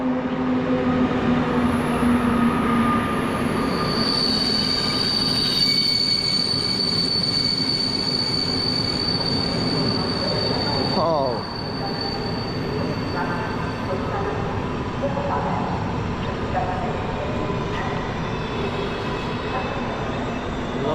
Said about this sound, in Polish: Jeden z nielicznych składów TLK w Warszawie, ale oblodzona